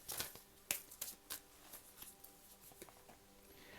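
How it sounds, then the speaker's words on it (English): Tarot cards shuffled by hand in a quiet room, a series of close, crisp riffling snaps and soft slides at irregular intervals, loudest at first and trailing off into lighter taps. "Last shuffle here for Aries."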